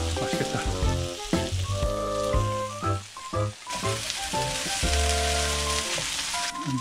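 Gnocchi fry in olive oil in a home kitchen pan, giving a steady, fairly loud sizzle with crackling bursts and occasional stirring clatter throughout.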